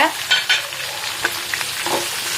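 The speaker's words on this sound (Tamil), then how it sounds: "வெண்டைக்காய் வெங்காயம் தக்காளி எடுத்து வச்சிருக்கோம் இல்லையா அதை வந்து இதில் போட்டுக்கோங்க" Sliced okra, onion and tomato fry in a pan for sambar, a soft sizzle broken by scrapes and clinks of stirring, close by with no talk.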